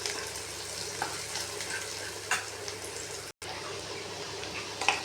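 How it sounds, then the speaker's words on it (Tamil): Onions sautéing in a pan, a steady close sizzle and crackle running continuously, with occasional stirring scrapes and a brief cut near the middle. "அந்த மாதிரி நல்லா வெங்காயம் வதங்கும் போது நாம் அடி பிடிக்காமல் பார்த்துக்கணும்"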